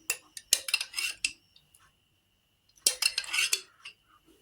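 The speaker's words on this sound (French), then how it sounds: "Je vais y ajouter de la mayonnaise" A spoon clinking and scraping against a bowl while mayonnaise is added to a fish salad, in two clusters of close metallic taps with a quiet pause between them.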